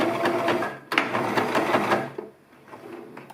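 Close, loud sewing machine back-stitching a chair pouch: rapid mechanical needle clatter for about two seconds, then a softer slower whir as it winds down.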